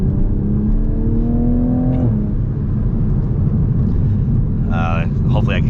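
A 2020 Toyota Supra A90 revving ahead of a launch mode test: a loud, steady engine drone with a rising rev tone that cuts off sharply, then brief higher whines return near the end.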